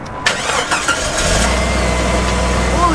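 A 1996 Jeep Grand Cherokee Laredo with a 4-liter engine cranks briefly and fires right up, settling into a loud, steady close-up idle, with voices heard over it.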